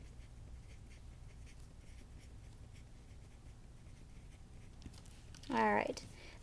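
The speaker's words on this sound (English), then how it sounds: "let's go ahead and write that down underneath introduction." Notes are written by hand, with faint, steady pen scratching on paper that runs quietly through most of the clip, before a short voiced sound near the end.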